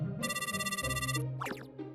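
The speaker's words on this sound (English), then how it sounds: "A phone call?" A phone ringtone for an incoming call trills in a bright, rapidly pulsing burst, then breaks off into a few short chirping tones, loud and close with no talking.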